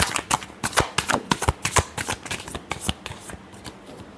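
Tarot cards are shuffled in quick crisp riffles, a dense run of sharp papery flicks close to the mic with no talk over them.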